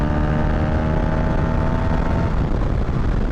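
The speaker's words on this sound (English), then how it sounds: "as I raise the revs, the TFT will begin to change colors" A KTM Duke 390 motorcycle engine is revved while standing, a loud, steady drone with a dense rumble that holds throughout without pause.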